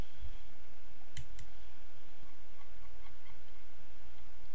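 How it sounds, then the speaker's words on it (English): A computer mouse gives two sharp, close clicks in quick succession over a quiet room hum, followed by a few fainter ticks, with no talking. "hover over it and click the pencil"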